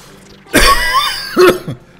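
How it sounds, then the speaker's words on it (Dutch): A person coughs and clears their throat while playing Super Mario Bros. Wonder, giving two loud, harsh, close bursts about a second apart with no speech around them. "Pardon voor het hoesten."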